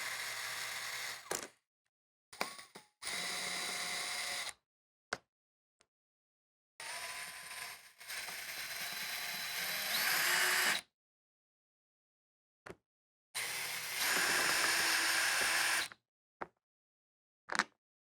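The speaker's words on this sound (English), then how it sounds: "The tools required for this procedure are an electric drill" Repeated bursts of a whirring electric drill removing screws from a Furrion rooftop air conditioner, several seconds each, separated by silences, close and loud.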